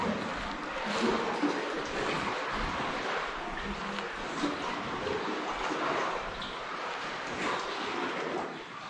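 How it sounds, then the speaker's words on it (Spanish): Lake water at Lago General Carrera in Chilean Patagonia washes and laps against rocks in a steady, close, broadband rush, with wind buffeting the microphone throughout and no talk over it. "Disfruten el sonido del agua acá en este lugar. El agua y las rocas."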